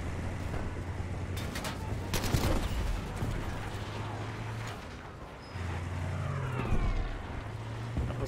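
Propeller warplane roaring past overhead in the World War II shooter Battlefield V, a broad rushing drone swelling and fading amid scattered gunfire and battlefield noise.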